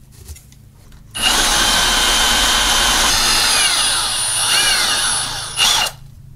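Power drill with a long bit bores up through roof plywood and shingles in one continuous, loud, high-pitched whine lasting about four and a half seconds, with slight pitch dips under load before stopping.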